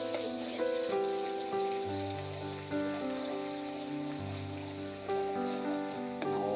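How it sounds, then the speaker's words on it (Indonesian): Ground spice paste sizzling steadily in a hot pan as it is sautéed, a dense crackling hiss under a sustained background of music, with no speech. "Bumbu yang sudah dihaluskan kita tumis ya, guys."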